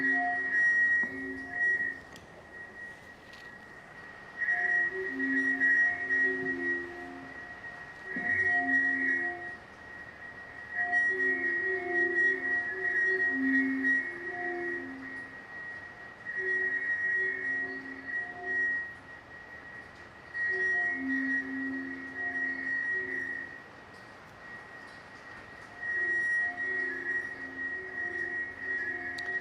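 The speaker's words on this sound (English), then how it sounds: "What you're hearing now is a piece by Alvin Lucier called I'm Sitting in a Room" Alvin Lucier's I Am Sitting in a Room, a re-recorded voice smeared into resonant room feedback: soft whistling, glassy tones pulsing in phrase-like bursts over a steady high ringing hum, fairly faint.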